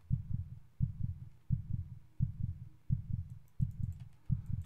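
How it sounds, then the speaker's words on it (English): Heartbeat effect in the horror video game Hypno's Nightmare, a low muffled double thump repeating at a steady, slightly slow pace, seven beats in a row, fairly quiet and alone. "I'm hearing heartbeats right now."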